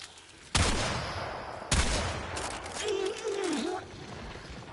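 Two heavy, booming Kuva Bramma bow shots in the video game Warframe, each a sharp blast trailing into a rumbling decay, with a brief tonal game effect after the second.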